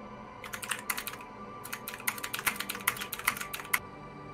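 Rapid bursts of typing on a mechanical keyboard during a tabletop-style game session, with clustered clacking keystrokes in short flurries and a few sharper key hits, fairly close and steady with no talk.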